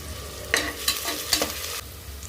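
Onion, ginger and spices such as cumin, cinnamon, dried chilli and curry leaves frying in ghee for veg masala oats, a soft steady sizzle broken by a few sharp scraping stirs of the pan.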